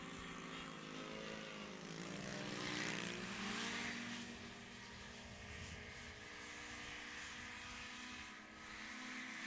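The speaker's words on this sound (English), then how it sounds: "So this is a race between the 4-stroke and the 2-stroke we got here." Racing hovercraft engines, a 4-stroke and a 2-stroke, drone at a race meeting on a farm, a steady layered engine roar heard from a distance that swells and fades slightly as the craft pass, with no talk.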